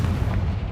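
A Confringo spell detonates in Hogwarts Legacy with a short, heavy boom, a deep thudding blast that fills the brief moment at steady loudness.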